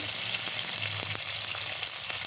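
Cumin, mustard seeds, curry leaves and washed green chillies sizzle in hot oil for an eggplant curry tempering, a steady close crackling hiss with occasional sharp pops, heard alone.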